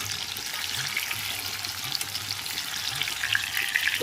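Bitter gourd and sliced onions fry in oil in a pan, giving a steady close sizzle with small crackles and occasional stirring. No one speaks.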